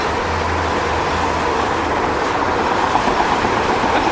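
Train rolling past on a busy MARC and CSX line in Germantown, a steady, loud, continuous rumble with rail noise throughout and a faint low hum near the start.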